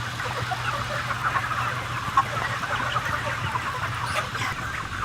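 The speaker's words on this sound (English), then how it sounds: "In this shed, tens of thousands of chickens are raised for food every 2 months." Tens of thousands of broiler chickens crammed together in a meat shed produce a dense, continuous wash of clucking and chatter under a steady ventilation hum, with no single bird standing out.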